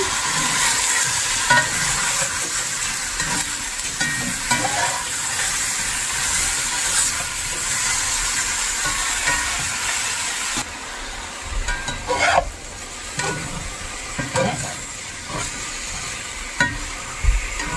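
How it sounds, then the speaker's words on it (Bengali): Mushrooms fry in oil in a pan, a steady close sizzle with scraping stir strokes and occasional clacks, loud and continuous before easing slightly partway through, with no talking. "এবার একটু ঘুটাই দেন।"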